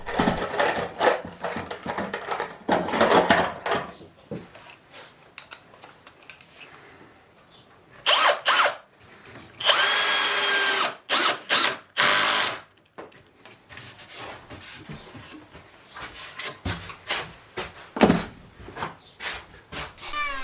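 Short bursts of a power drill drive screws through angle brackets into the main post of a wooden pub sign frame, several loud whirring runs in quick succession with quieter workshop handling noise around them and no talk.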